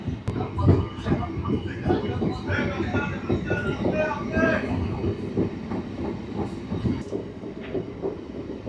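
Inside the Bankura–Jayrambati local train 68096, a steady rumble and rattle of carriages runs with rhythmic clickety-clack from the wheels. Faint voices murmur in the background throughout.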